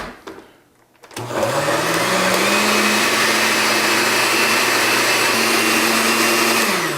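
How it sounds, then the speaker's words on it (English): After a quiet second, a blender starts up loudly and runs steadily, pulverizing twelve garlic cloves with salt. Its motor whine shifts in pitch as the load changes. "Then I'm going to put 12 cloves of garlic and half a teaspoon of salt and pulverize it."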